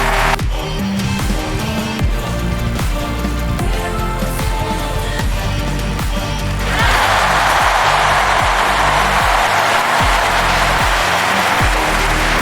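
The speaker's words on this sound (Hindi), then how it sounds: "सभी जोरदार तालियों से उसका स्वागत करेंगे" Audience applause welcoming a competitor on stage, starting beneath rhythmic music and swelling into a loud, dense wash of clapping that fills the second half on its own.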